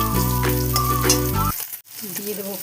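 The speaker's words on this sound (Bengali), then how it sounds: "জিরে পেঁয়াজ ভেজে নিচ্ছি" Cumin seeds and onion sizzle in hot oil for a katla fish kalia, a steady close crackle with a tonal hum in the first half, then a softer, quieter fry.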